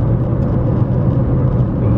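Steady low rumble of a car's engine and road noise heard from inside the cabin while driving, continuous and fairly loud with no talking.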